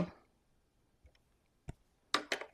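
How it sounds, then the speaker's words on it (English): Small aluminum pieces clinking on a glass mat during a craft project: a faint light tap, then a single sharp click and a couple of louder, ringing clinks near the end, with no talk. "See, everything clinks on the glass mat."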